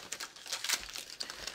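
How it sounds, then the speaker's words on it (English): Paper crinkles and rustles while being handled and tucked in place during a jeans fitting, several quick close crackling bursts in a quiet room. "I'm just gonna stick a little paper here"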